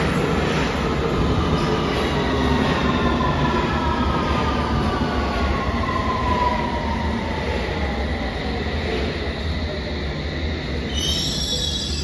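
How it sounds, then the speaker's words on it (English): A London Underground tube train pulls into the station, its loud rumbling roar filling the platform while squealing wheels and rising electric whines sweep across it as it slows; no one speaks. "next tube is my one"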